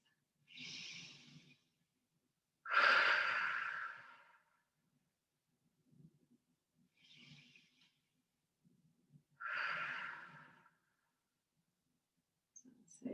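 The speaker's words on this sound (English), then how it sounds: "Just have a couple of deep breaths there, just taking that in, breathing in through the nose," Slow deep breaths drawn in through the nose and released through the mouth during a stretching session, four to five long, close, airy breaths separated by quiet pauses.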